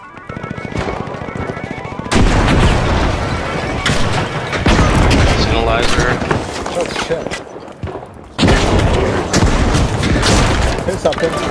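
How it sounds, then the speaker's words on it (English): Loud bursts of explosions and rapid gunfire in the video game The Finals crash over one another, dense and continuous, with a voice speaking beneath the chaos. "Lots of explosions, guys."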